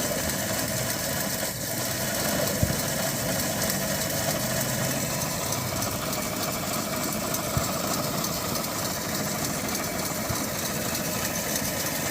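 A Daihatsu Feroza engine runs close by with a steady, vibrating idle that rises in pitch as it is revved and then settles back down.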